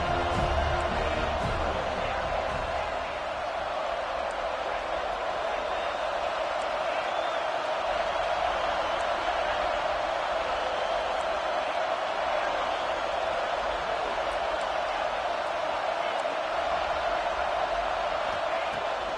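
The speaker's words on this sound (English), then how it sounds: "Here comes his home crowd as the defense tries to get off the field on 3rd down" A home stadium crowd at a Clemson versus Florida State college football game roars steadily as the defense tries to get off the field on third down, a sustained wall of cheering that holds loud throughout.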